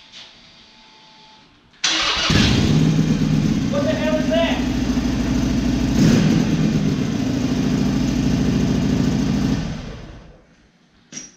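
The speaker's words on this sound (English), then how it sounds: "So let's go ahead and start this thing up. You guys can hear it." A 2017 Harley-Davidson Sportster 883 engine with drag pipes cranks and catches, then settles into a loud, rough, uneven idle that runs for several seconds before shutting off; a voice speaks briefly.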